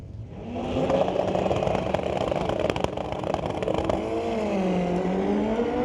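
A Chevy S10 truck and a Hayabusa motorcycle launch side by side in a drag race at Mission Raceway Park, engines roaring loud and close, then rising and falling pitch as the revs climb through gear changes, with no voices.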